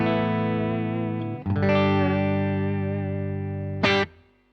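Clean electric guitar tone from a Boss Pocket GT multi-effects unit set to an empty patch, with sustained ringing chords that fade and then a sharp strum near the end, heard alone and close.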